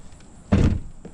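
A car trunk closes with new soft-close struts, making a single muffled, heavy thunk up close that fades quickly, with faint quiet knocks before and after.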